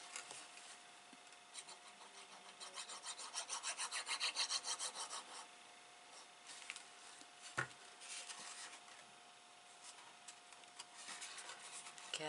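Folded paper being burnished for a gift box, heard as close, dry rubbing strokes in quick rhythmic bursts, with one sharp tap partway through and quiet pauses between passes.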